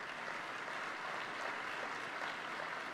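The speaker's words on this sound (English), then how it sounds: "Yes, you can applaud." Steady, dense audience applause fills a large hall at a climate summit speech, a continuous wash of many hands clapping at even loudness with no talk over it.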